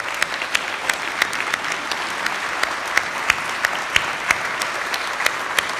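Steady applause from a church congregation honoring the fathers as they stand, dense and continuous with sharper individual claps rising out of the wash throughout.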